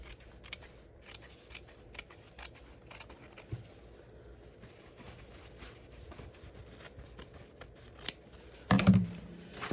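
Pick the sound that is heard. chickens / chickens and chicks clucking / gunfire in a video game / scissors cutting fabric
scissors cutting fabric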